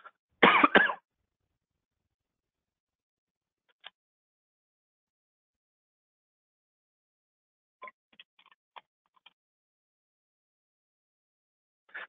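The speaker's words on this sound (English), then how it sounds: "I had a slight cough." A single harsh cough close to the microphone during a quiet software training session, followed by long silence and a few faint clicks.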